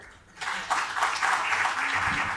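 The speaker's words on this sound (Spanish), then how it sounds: "le damos un aplauso a la doctora" Audience at a medical academy lecture on bioethics applauding a doctor as she takes the floor, a brief burst of moderate clapping starting abruptly and continuing steadily.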